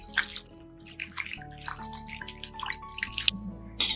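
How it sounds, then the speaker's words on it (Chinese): Raw prawns being washed by hand in a bowl of water, with close sloshing, dripping and splashing that comes in irregular bursts. "把虾清洗一下"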